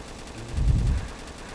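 Machine gun fire in the Roblox zombie survival game Survive Zombie Arena, a short muffled low burst swelling for about half a second amid quiet game background, with no voices.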